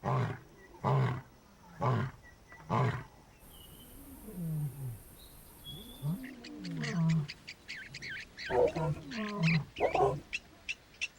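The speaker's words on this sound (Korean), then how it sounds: "사자의 소리는 8km까지 퍼져나가죠." A wild lion gives a series of deep, heavy roars in hot, dry country, several loud pulsing calls repeating at a steady pace, with birds chirping in the background.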